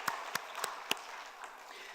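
A church congregation at a Sunday service gives brief scattered applause, four or five separate claps ringing out in a reverberant hall before fading to quiet.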